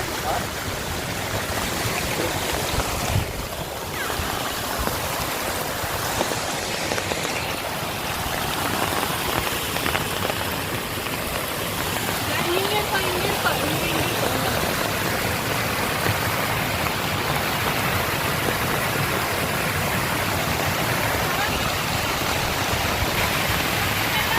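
Water running at full flow, a dense, continuous rushing wash that stays fairly loud and even from start to finish.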